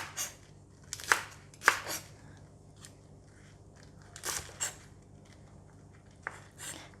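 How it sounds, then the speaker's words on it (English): A knife slicing choy sum into small pieces on a board, a few crisp crunchy cuts in short bursts with quiet pauses between, close and without talk. "how I cut the vegetable is I'm going to cut it in small pieces like this"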